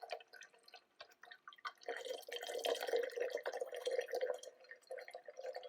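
Water pouring at full tilt from a Fellow Stagg EKG electric gooseneck kettle, a close, continuous splashing stream building after a few drips and holding steady for several seconds.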